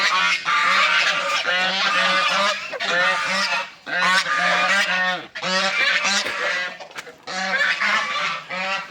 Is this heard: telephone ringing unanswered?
no